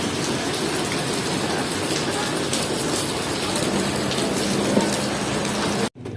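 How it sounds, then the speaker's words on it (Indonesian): Steady, heavy rain in Bandung, Indonesia pours down in a constant hiss, with dense drops pattering on surfaces throughout before cutting off abruptly at the end. "Bandung hujan"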